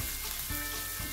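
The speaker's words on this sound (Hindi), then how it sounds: "इसको हाई फ्लेम पे अच्छे से मिक्स करना है" Spices and chillies stir-fried over a high flame for shahi paneer give a steady, close sizzle that holds through the whole moment, with a slight shift in texture midway as the mixture is moved around.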